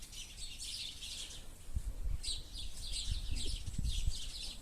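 Small trapped wild birds chirp in quick, bright bursts, fairly close, over a low rumbling background with occasional soft thumps.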